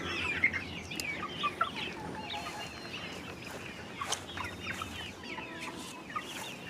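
Meat chickens cluck and murmur in a steady low chorus, with occasional sharper individual clucks, fairly faint and at a moderate distance, with no voices.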